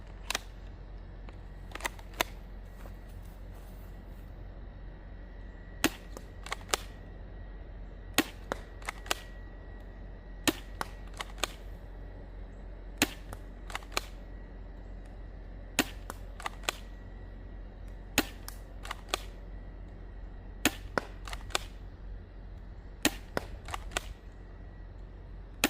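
A Dart Zone Max Nitroshot+ blaster fires Nerf Pro darts in a hot, humid setting, each shot a sharp snapping crack, often in quick pairs, repeating about a dozen times over a low steady hum.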